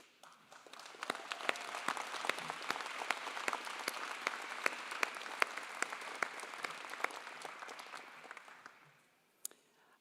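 A university convocation audience gives warm sustained applause, a dense wash of claps that swells, holds, then fades out near the end.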